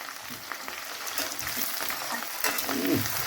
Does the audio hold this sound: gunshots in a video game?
no